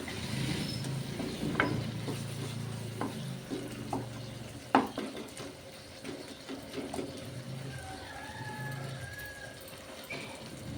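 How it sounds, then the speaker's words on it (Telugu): Tomatoes and moong dal cook in oil in a pot with a soft, steady sizzle and bubbling, punctuated by a few close clinks and scrapes of stirring. "ఇగోండి టమాటా పెసరపప్పు ఉడుకుతున్నది"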